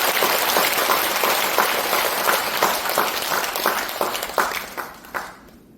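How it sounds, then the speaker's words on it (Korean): Seminar audience of business owners bursting into loud, dense applause that holds steady, with a few distinct sharper claps near the end before it fades quickly to quiet. "우리 사장님들 자신을 위해서 박수 한번 주십시오"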